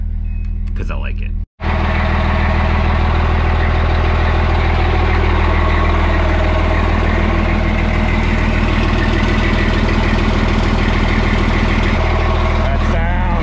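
A 1990s Newell coach RV's engine starts up after a short pause and settles into a loud, steady, rumbling idle that continues throughout.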